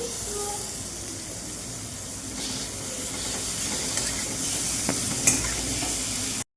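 Ground spice paste hits hot oil for a boiled-potato curry, giving a steady, fairly loud sizzling hiss that runs throughout, with a few faint clicks and no one talking.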